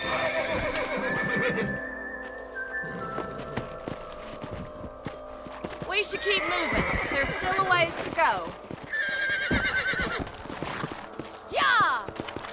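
Horses whinny and neigh repeatedly while hooves clip-clop along a trail in the Western video game Red Dead Redemption, with someone speaking briefly over the animals and ambient outdoor noise throughout.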